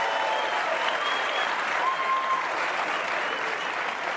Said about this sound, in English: They applaud when you smoke.